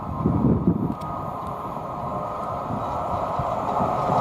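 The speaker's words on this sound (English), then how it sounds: "the next train to pass by, we've got a pair of 90s from Felixstowe to Garston" A pair of class 90 electric locomotives hauling a freight from Felixstowe to Garston past Nuneaton on the West Coast Main Line, a steady rolling rumble with wind buffeting the microphone, no voices.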